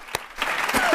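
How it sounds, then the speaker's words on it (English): Scattered audience clapping at a community keynote address, starting with one sharp clap and then building into a short, thin round of applause, fairly close. "Let's give ourselves a round of applause"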